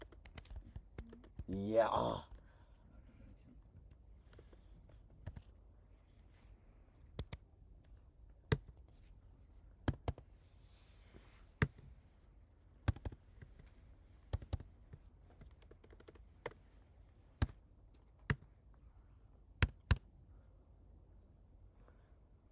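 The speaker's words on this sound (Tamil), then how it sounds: "இப்போ வேணால் தெளிவாக மெதுவாக டைப் பண்ணுற பார்த்துக்கோங்க" Slow, deliberate typing on a computer keyboard, heard as sparse distinct key clicks spaced a second or so apart, fairly close, after a brief spoken word at the start.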